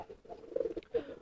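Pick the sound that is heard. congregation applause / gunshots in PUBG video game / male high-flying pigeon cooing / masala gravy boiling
male high-flying pigeon cooing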